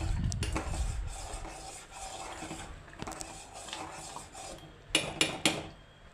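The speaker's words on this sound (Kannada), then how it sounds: "ಎಲ್ಲ ಹಾಕ್ಕೊಂಡು ಚೆನ್ನಾಗಿ ಮಿಕ್ಸ್ ಮಾಡ್ಕೋಬೇಕು" A spoon stirs grated coconut, dry ginger and cardamom powder in a pot with soft scraping, then a few sharp metallic clinks near the end.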